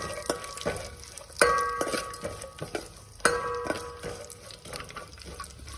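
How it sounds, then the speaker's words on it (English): Chopped almonds stirred in a pan over a low flame for payasam, with soft scraping stirs and light clinks at an irregular rhythm, a faint sizzle beneath, close and moderately quiet. "I'm going to add the chopped almonds. I'm going to fry this in a low flame itself."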